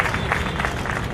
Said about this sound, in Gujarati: એની આપણે અહીંયા તાળીઓથી વધાવીશું.